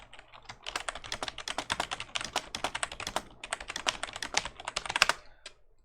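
Rapid, steady keystrokes clatter on a computer keyboard close by, continuing for several seconds before stopping.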